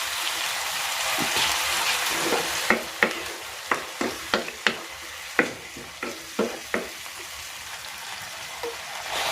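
Tomato and tuna sauté in a pan under a constant sizzle, broken by a run of sharp, close spatula knocks and scrapes against the pan in an uneven rhythm.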